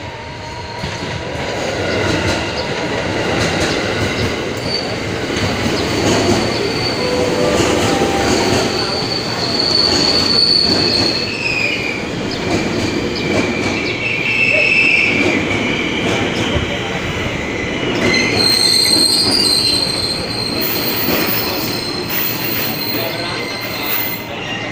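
Train at Bogor station during a driver changeover, with steady rail rumble and squealing wheels throughout, loud and close, with faint voices in the background.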